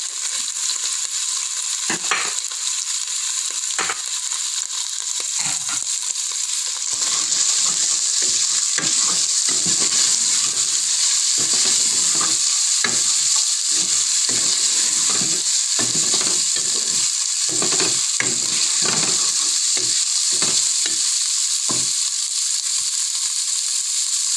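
Hotdog sautéing in a hot pan for sopas, giving a loud, continuous hissing sizzle throughout, with frequent clattering scrapes and taps of a utensil stirring close by.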